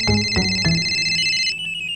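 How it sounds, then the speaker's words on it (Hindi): A phone ringtone chimes loudly and steadily for about a second and a half, with a few short thumps near the start, then stops. "फोन उठा"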